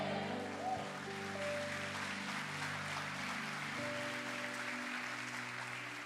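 Church congregation applauding during a service: a continuous, even wash of clapping across the room, moderately quiet, with sustained musical tones humming beneath it throughout.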